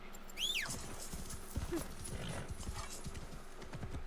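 Horse hooves clip-clop in the video game Assassin's Creed Shadows, a steady run of soft hoofbeats under a brief whinny and game ambience, fairly quiet and with no talk.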